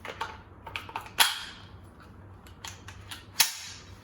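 Two sharp shots from a Russian SKS rifle fired outdoors, each a loud crack with a quick decaying tail, spaced about two seconds apart among faint clicks and handling noise.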